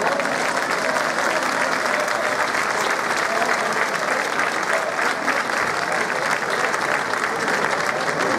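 Warm, sustained audience applause for two choir directors at a municipal concert in Barlovento, Canary Islands, a dense steady wash of many hands clapping, loud and close throughout with no break.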